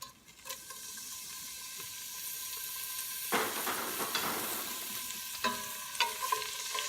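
Garlic sizzles and fries in hot olive oil in a pan, a steady close crackle with occasional stirring scrapes, louder after the garlic goes in midway.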